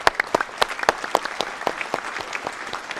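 An audience breaks into applause at a stage benefit concert, with dense, sustained clapping from a crowd that carries on steadily for several seconds.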